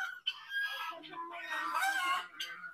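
Chickens at a farm resort in Virar give a short, faint burst of crowing and clucking, several overlapping calls within a few seconds, heard from a moderate distance.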